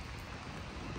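Steady rain falls during a stop while loading a lorry, a dense, even hiss with low rumbling texture filling the whole second, no voices over it.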